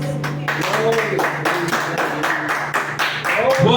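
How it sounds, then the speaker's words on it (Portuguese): Clapping in a church service after a call to praise the Lord, a steady patter of hands in the room mixed with voices and a sustained musical tone underneath, fairly close and moderately loud throughout. "Dá uma salva de palmas para o Senhor"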